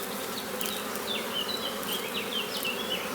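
Honeybees buzz around an open hive whose frame is being set in place, a dense, steady close drone with individual bees whining past in rising and falling tones, no voices.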